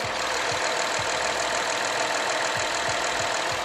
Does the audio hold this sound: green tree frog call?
no